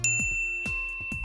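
Three bright notification bell dings ring out alone, evenly spaced, each a clean metallic chime with a short ringing decay.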